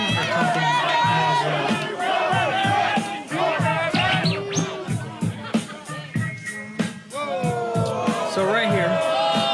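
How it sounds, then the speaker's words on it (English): A rowdy crowd at an underground rap battle in the film 8 Mile taunts a rapper, with loud sustained shouting, whooping and jeering voices overlapping throughout. "The crowd began to taunt him."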